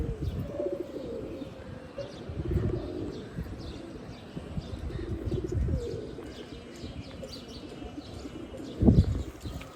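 Cooing pigeons in a loft of flying Chila and Giribaz birds, a steady low murmur of overlapping coos with occasional chirps and a louder burst near the end, no talking.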